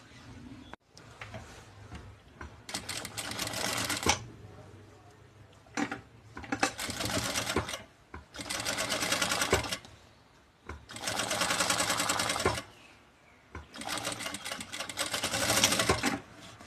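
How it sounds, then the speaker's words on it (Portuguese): Sewing machine running a straight seam to attach a zipper to synthetic fabric: several loud, close bursts of rapid, steady stitching a few seconds each, separated by short quiet pauses. "Vou passar uma costura reta aqui e depois do outro lado."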